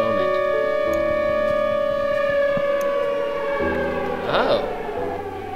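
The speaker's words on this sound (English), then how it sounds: "the sirens have ruined it" An in-game civil defense siren in Minecraft wails as a loud, sustained tone with stacked harmonics, holding steady before its pitch wavers slightly near the end.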